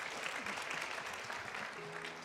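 Steady, soft applause from an audience at a school graduation ceremony welcoming a teacher to the front, continuous and even throughout.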